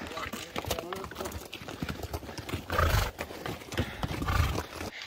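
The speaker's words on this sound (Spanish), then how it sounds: "Esta mula está subiendo solita." A mule climbs a trekking trail toward Sangalle, Arequipa, carrying no load, its hooves clopping in a steady walking rhythm close by while someone talks over it.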